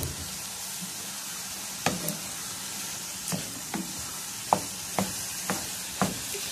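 Chopped tomatoes sizzle in a hot frying pan while being stirred for a béchamel pasta dish, a steady frying hiss punctuated by several sharp clicks and scrapes of the spoon against the pan, with no talking.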